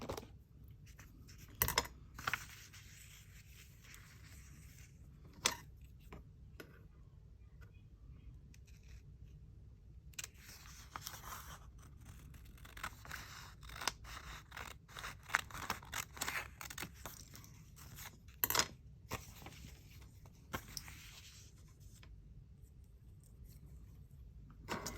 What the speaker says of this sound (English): we're just going to trim it down to being the size of this piece of clay